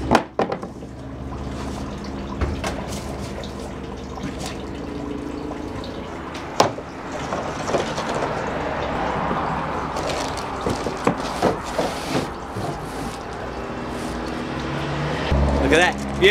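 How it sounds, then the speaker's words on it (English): Wet suction and gurgling as water is drawn through a soaked handmade paper sheet on a papermaking mould, with drips and a steady hum underneath, growing louder toward the end. "I'm going to slide that sheet onto there and suck the water out"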